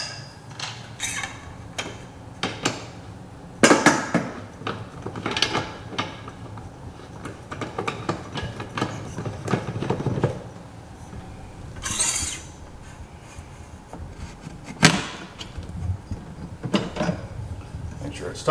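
A prism pole is screwed and tightened onto a laser rod calibration plate, giving scattered close clicks, scrapes and metallic taps in an uneven rhythm, with a few sharper knocks and no talking.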